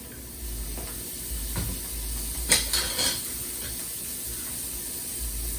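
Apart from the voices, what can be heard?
carrots being lightly sautéed in a pan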